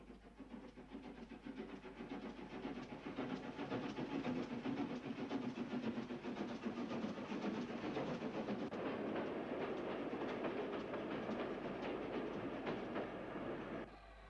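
Steam locomotive 44188 hauls a railtour train westward around the curve from Woodford Halse North Junction to West Junction, a steady rumbling roll of wheels and carriages building and holding loud and close for most of the clip before easing slightly.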